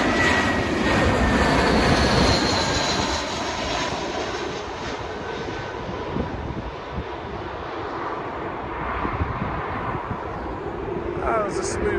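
A small plane landing at Heathrow Airport produces a loud, steady engine roar that eases slightly as it passes, with a broadband rushing drone throughout.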